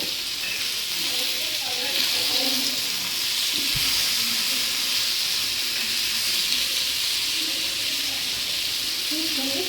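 Green chillies fry in a hot pan with a steady, dense sizzle that runs unbroken the whole time, with a single sharp pop near the middle and faint background voices.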